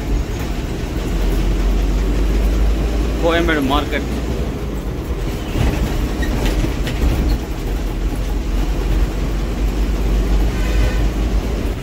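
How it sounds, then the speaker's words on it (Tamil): A metro train rumbles steadily overhead amid heavy road traffic noise in Chennai, a loud continuous roar, with someone speaking briefly in Tamil over it. "மேலே மெட்ரோ ட்ரெயின்"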